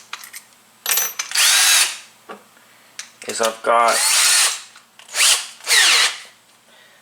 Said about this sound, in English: Alright, so let's drill a hole.